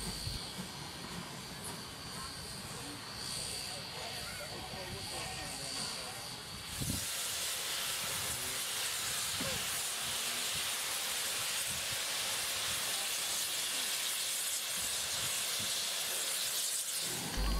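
Steam locomotive 3526 hisses loudly while shunting past its Pullman carriages at Thelmere, New South Wales, a continuous broad hiss that swells brighter and stronger partway through and holds to the end.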